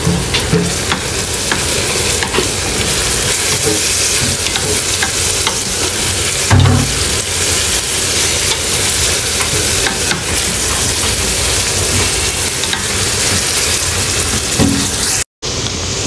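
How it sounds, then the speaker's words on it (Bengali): Garlic and garam masala frying with onions in a pan: a loud, dense, continuous sizzle with occasional stirring scrapes and knocks, close up and unbroken apart from a brief cut near the end, with no speech. "এখন এখানে রসুন, তারপরে গরম মশলা, এটা একসাথে পেঁয়াজের সাথে ভেজে নেব"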